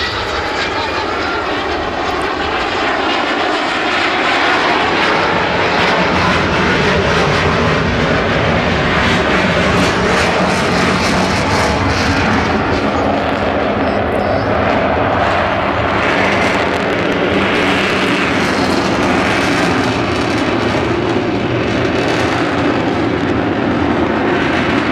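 Avro Vulcan bomber XH558 flying past at the 2015 Southport Airshow, a loud continuous engine roar that holds for the full twenty-five seconds with a slowly shifting, rushing tone.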